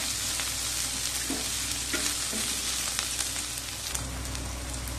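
Green chilli, ginger and garlic sizzle steadily in hot oil in a pan, a continuous dense frying hiss with occasional stirring clinks, close and fairly loud with no voices.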